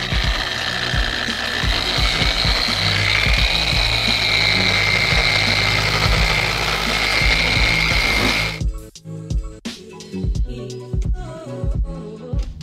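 A car polishing buffer whirs loud and steady while applying wax, its motor tone shifting slightly, then cuts off into quieter clicks, taps and handling noises.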